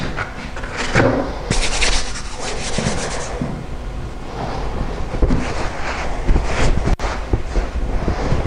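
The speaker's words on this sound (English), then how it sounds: "I'm going to use a sanding block and 180 grade" Steady abrasive rubbing of a sanding block with 180 grade paper over flat pre-fibred plasterboard, continuous back-and-forth scraping at close range with no talking.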